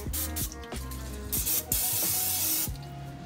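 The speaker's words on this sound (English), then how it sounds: "First thing, we need to spray the inside of it, or if you've got a liner," Several close spray bursts of cooking oil coat the inside of a slow cooker set on low, short hissing blasts separated by brief pauses, with no talking.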